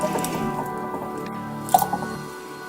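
An ingredient drops into a glass of water for mint-infused water, giving a soft splash and a couple of small drips near the end, heard up close over low room noise.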